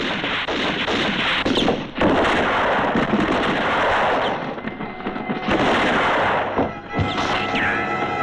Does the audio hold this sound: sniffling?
no